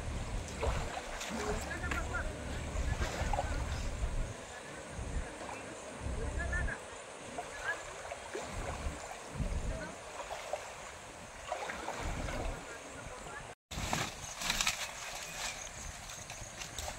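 Water rushing steadily through a culvert under a small bridge after a tractor has gone by, a continuous broadband wash with an occasional brief voice over it.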